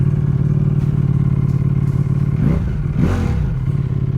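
A Ducati Panigale V4S motorcycle engine on its factory exhaust idles with a loud, lumpy rumble, then revs briefly twice, the exhaust barking sharply before settling back.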